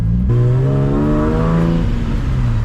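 A boosted Nissan Z with a Tomei engine revs hard on a dyno, its loud strained tone climbing steadily in pitch and then holding high, close and alone.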